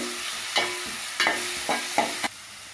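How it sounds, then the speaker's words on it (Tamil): Ginger garlic paste sautéed with golden onions in a pan, a mutton kola urundai kuzhambu base: four or five distinct scraping stir strokes over a soft continuous sizzle, close and alone. "இஞ்சி பூண்டு பேஸ்ட்டை சேர்த்துட்டு நல்லா வதக்கிடுங்க"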